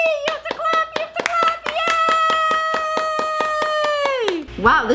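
Close hand claps, fast and evenly spaced, ring out at home for a pet parrot named Jersey, running beneath a long high-pitched cheering voice that holds steady and then slides down before a short squawk-like sound at the end.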